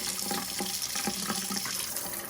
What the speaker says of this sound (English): I'm going to open my faucet over here